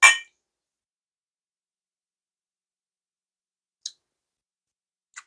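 Glasses clink once in a whiskey toast with High West Double Rye, a bright, sharp ring at the start, followed by two faint, tiny clicks later in near silence.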